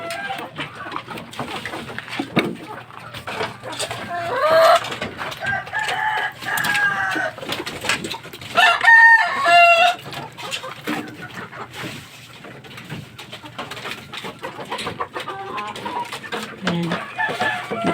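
Talisay gamecocks kept as broodcocks in pens, with steady clucking and a few crows over a busy, continuous farmyard background; several birds call close by.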